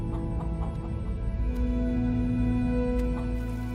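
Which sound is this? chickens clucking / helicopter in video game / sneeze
chickens clucking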